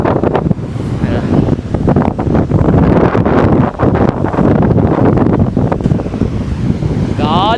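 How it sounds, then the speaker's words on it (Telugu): Strong wind buffets the microphone on the beach at Puri, a loud, roaring rush that almost continuously masks the crashing waves behind it. "గాలి మాత్రం నెక్స్ట్ లెవెల్ వస్తుంది ఇక్కడ"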